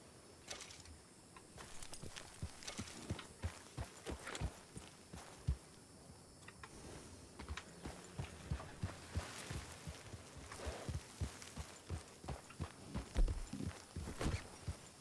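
Horse hooves clip-clop steadily in the western roleplay game RedM, a continuous run of close, even hoofbeats with a few louder strikes near the end and no talking.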